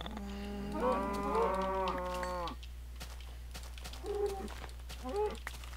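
Cattle mooing in the video game Carpe Mea Artis: two drawn-out, tonal moos up close, then two shorter, softer lows, all over a steady low hum.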